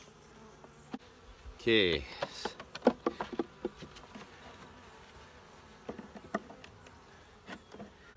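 Honeybees buzz close by around hive frames of a nucleus colony in short bursts with scattered clicks and taps; a person says a single word briefly.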